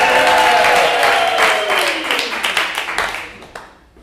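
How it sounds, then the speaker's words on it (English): Audience applause at a comedy show, a dense burst of clapping that starts loud and gradually thins out over a few seconds. "So let's give us a round of applause."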